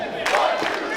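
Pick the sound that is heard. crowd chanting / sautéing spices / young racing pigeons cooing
crowd chanting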